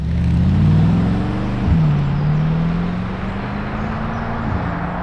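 A Mercedes G63 G-Wagon, the older model, is driven on the road, its engine a loud, steady low drone heard from inside, with the pitch rising and shifting gently through gear changes under constant road roar.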